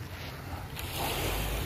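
Waves and moving water at Dolomite Beach on Manila Bay, a steady broad wash that swells slightly louder partway through, with wind buffeting the microphone and no voices.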